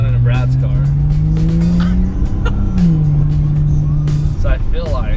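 A BMW E90 doing donuts, its tires squealing in long, wavering tones over engine noise, close and loud, with people talking throughout.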